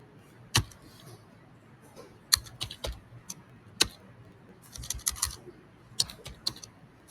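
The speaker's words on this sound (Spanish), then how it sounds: "tecleamos el comando de recortar" Keystrokes on a computer keyboard while entering a trim command in CAD software, sparse irregular clicks and short bursts of taps, fairly close and quiet, with no talking.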